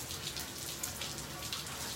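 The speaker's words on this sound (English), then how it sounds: "and it is raining" Steady rain falling on a Wednesday afternoon during the aftermath of Hurricane Harvey, a soft continuous patter with scattered drop hits, fairly faint and even throughout.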